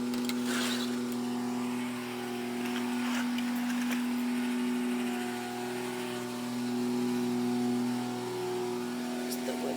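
A wood chipper idling outdoors during a city tree removal, a steady droning engine hum that rises and falls slightly and holds at a constant moderate level throughout.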